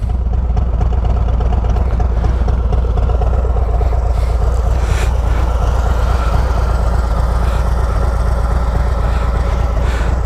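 A 2023 Harley-Davidson Road Glide Special with a Screaming Eagle Stage 2 upgrade idles slightly high with a faint choppy lope, giving a steady, loud, close rumble throughout with no talking.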